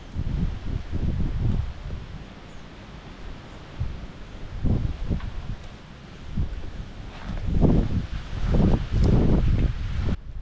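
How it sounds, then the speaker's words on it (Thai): Strong wind outdoors blows in surging gusts, rising and falling as loud low rumbles against the microphone, with no talking. "ตรงนี้ลมแรงมากเลย"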